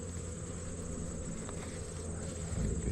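Bees hum in an opened hive, a steady dense buzz with a high whine on top and low rumbling handling noise that swells toward the end, with no voices.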